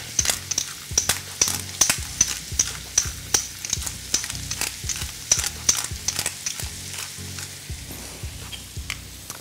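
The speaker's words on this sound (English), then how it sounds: "once we've sauteed the vegetables for about 5 minutes" Vegetables and onions saute in a pan, a loud continuous crackling sizzle with frequent sharp pops and utensil clicks, close up and alone.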